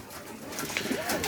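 Pigeons coo softly in a bird loft, with a brief rolling, throaty coo rising over faint background rustle. The sound is short and fairly close.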